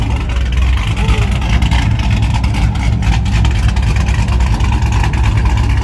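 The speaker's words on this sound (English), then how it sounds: "Okay, y'all hear that cam?" A car engine with a lumpy camshaft idles loudly and close at a small-tire drag racing event, its choppy, uneven rumble steady throughout.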